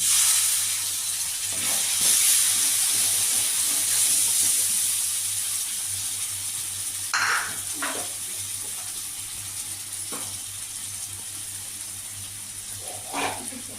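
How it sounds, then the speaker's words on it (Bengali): Spice paste with Kashmiri chili powder fries in a pan for an eggplant and paneer masala curry. A steady, close hissing sizzle runs throughout, broken by a few short clatters and scrapes. "আমি এবার মশলাটাকে কষতে থাকবো"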